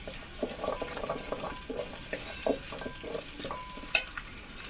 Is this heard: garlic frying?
yes